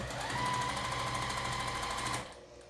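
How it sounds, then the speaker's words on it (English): Sewing machine stitching quilt pieces for a flippy bits quilt, a steady fast mechanical whir with rapid needle ticking, running close and loud for about two seconds before stopping abruptly. "I'm going to sew all the way down."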